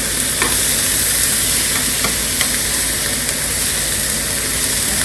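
Korean Hanwoo beef grills on a hot pan in a loud, steady sizzle with crackling fat and occasional clicks and stirring scrapes, close and continuous with no voices.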